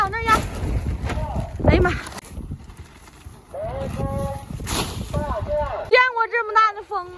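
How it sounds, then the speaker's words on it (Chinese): Strong gusts buffet rice seedling greenhouses on a farm in rural Northeast China, roaring in low rushing bursts against the microphone while people shout and talk over it. "见过这么大的风吗？"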